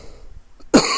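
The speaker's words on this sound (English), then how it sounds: "smoker's cough" A single harsh, rough smoker's cough bursts out loudly near the end after a quiet stretch.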